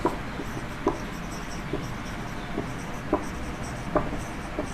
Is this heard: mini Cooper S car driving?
no